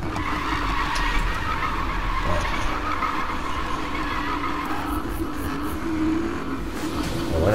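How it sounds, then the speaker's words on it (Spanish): A 2014 Dodge Challenger SRT8 drifts in Need for Speed on PS4, its tyres skidding in a loud, sustained screech over a steady engine roar that barely lets up. "Derrapa en cabeza de grupo y consigue más puntos de derrape."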